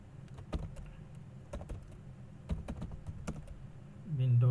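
Keys clatter on a computer keyboard while typing text into Notepad on Windows 10, an uneven run of close, moderately loud taps ending in a brief louder tonal sound.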